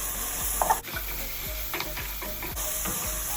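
Tomato paste being stirred into ground beef frying for chili: a steady sizzle runs under repeated scraping strokes of the spoon against the pan, close and fairly quiet, with no talking.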